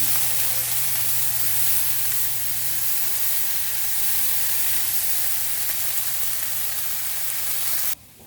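Food sauteing in a hot pan with black pepper, a loud, steady close-up sizzle and hiss that holds evenly for about eight seconds before cutting off abruptly.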